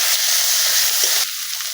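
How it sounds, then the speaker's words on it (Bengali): Ground cumin spice paste fries in a hot pan with a loud, continuous sizzle that barely changes over a short stretch. "এই মশলাটা একটু ভুজিয়ে নেবো"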